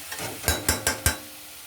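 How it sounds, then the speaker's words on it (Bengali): Spices fry in oil over a low gas flame, with a quiet sizzle broken by four sharp, evenly spaced utensil knocks against the pan. "এই যে গ্যাস কমিয়ে আমি মশলা ফেলেছি"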